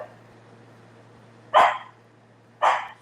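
A dog barks twice in two short, sharp bursts about a second apart, moderately close, with a low steady hum in the background and no talking.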